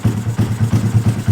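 A 2022 Honda Grom motorcycle engine with a high-compression piston and freshly adjusted valves idles while warming up, giving a steady, close, lumpy low thump that pulses about five times a second, with no other sound over it.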